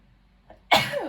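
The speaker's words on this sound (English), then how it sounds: "Excuse me, I had to sneeze." A single sharp sneeze bursts out close by after a brief quiet intake, loud and abrupt.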